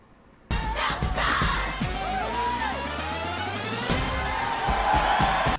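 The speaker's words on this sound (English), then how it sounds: "That crowd is way too hyped for the basketball team to come out onto the floor." A movie crowd packed into a high school gym cheers, whoops and yells loudly as the basketball team is about to come out, a continuous roar with rising shouts and excited voices.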